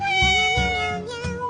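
A kitten cries loudly in a run of close, insistent meows, three pulsing wails over about a second and a half.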